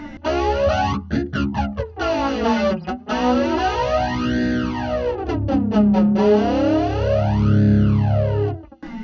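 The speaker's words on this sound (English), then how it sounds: "Not phase, that was flange." Distorted electric guitar plays a lick through a flanger, with the effect sweeping slowly up and down across the sustained, chopped chords; loud and continuous with no talking.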